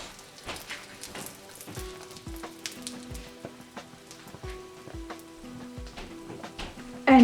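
Kheema paratha, a flatbread stuffed with minced mutton, fries on a hot pan with a soft, steady crackling sizzle and scattered spitting pops, fairly quiet and close, with a brief louder bump at the end.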